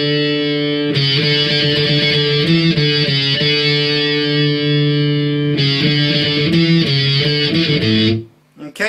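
A distorted electric guitar plays a riff, loud and close, with sustained ringing notes shifting in a repeating pattern before stopping abruptly near the end.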